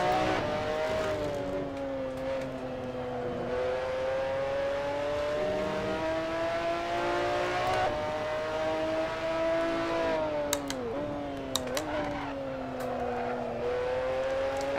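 A McLaren F1 GTR race car's engine howls nearby at Laguna Seca, rising steadily through the revs before dipping sharply on gear changes around the two-thirds mark, loud and continuous with no talk.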